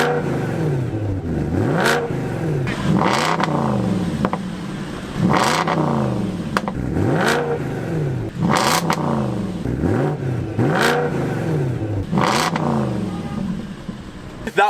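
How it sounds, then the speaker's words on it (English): BMW M3 E92 and Audi S5 B8 V8 engines take turns revving, with about seven sharp, loud blips that rise and fall at regular intervals over a steady idle, heard up close. "let's have a little rev off and we'll sort of compare both of the V8 noises"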